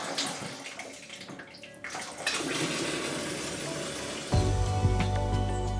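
A hot water tap gushes into a bath in a house being viewed, a steady rushing splash that starts partway and grows fuller and louder as the flow settles.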